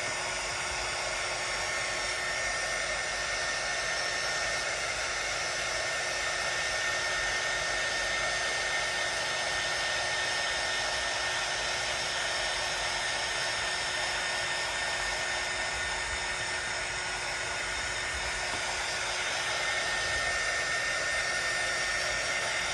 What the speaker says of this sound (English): go ahead and dry this